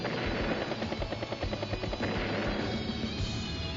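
Battlecopter unit in the video game Advance Wars: Days of Ruin, a loud rhythmic rotor chop with fast repeating pulses and bursts of gunfire-like hits, steady throughout with no voices.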